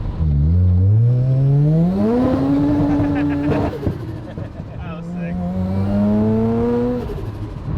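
A 700 HP, 2200 lb Mazda RX-7 pulls at full throttle in second gear, its engine note climbing loud and steady, dipping briefly at a shift, then rising again close up.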